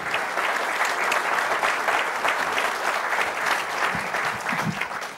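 Sustained applause from an audience at a World War II history talk, a steady, moderately loud wash of many hands clapping that tapers slightly at the end.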